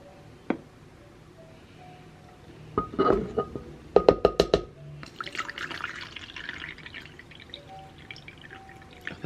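Water poured into a jar of homemade sourdough starter with flour gives a few splashing, trickling bursts and drips, close and moderately loud, between quiet handling noises.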